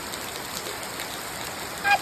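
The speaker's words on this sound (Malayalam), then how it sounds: "അപ്പോൾ നല്ല മഴ പെയ്യുന്നുണ്ട്" A constant wash of heavy rain pours down, even and unbroken, with a brief faint electronic beep near the end.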